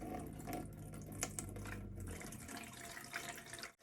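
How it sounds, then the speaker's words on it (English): Tap water running steadily into a hydroponics container set up for Kratky-style growing, with a continuous broadband rush and a low filling tone that fades partway through. "I'm going to fill this with water"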